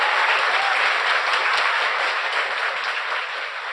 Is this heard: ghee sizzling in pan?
no